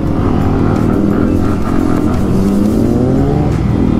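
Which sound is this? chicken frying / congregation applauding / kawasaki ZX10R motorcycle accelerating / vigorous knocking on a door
kawasaki ZX10R motorcycle accelerating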